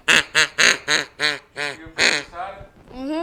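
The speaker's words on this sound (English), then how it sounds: "It's a triple threat duck call." A triple-reed duck call blown up close, a loud series of about eight sharp raspy quacks in an even rhythm, the last ones trailing into longer drawn-out notes.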